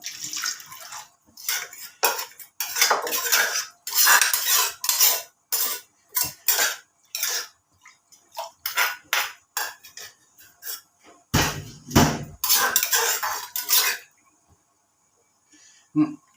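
Canned fish is pounded in a mortar while making a Thai sour curry, with irregular bursts of sharp knocking and clattering strokes close by, broken by short pauses and a brief heavier thump.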